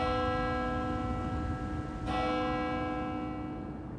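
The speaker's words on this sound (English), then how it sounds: "The bell that can be heard ringing on the Barmen church dates back to the Middle Ages." The medieval bell of the Barmen church rings with a sustained, humming tone, a fresh strike arriving midway and then slowly fading, heard alone at moderate volume.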